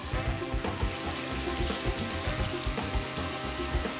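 Dashi broth for nikujaga, seasoned with whole dried chili, boils hard in a pot, making a constant close busy bubbling and popping with no voices over it.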